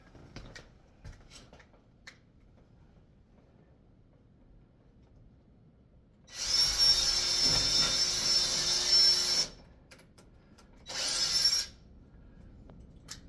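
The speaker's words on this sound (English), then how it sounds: "we're going to drill some happy little holes" A power drill whines loudly for about three seconds, pauses, then runs again in a shorter burst, drilling holes in a composite laminated beam, with quiet handling sounds around it.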